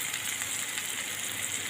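Chopped onion frying in mustard oil in a pan, a steady close sizzle and crackle with no voices.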